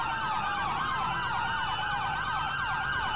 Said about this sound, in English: I'm gonna turn the sirens off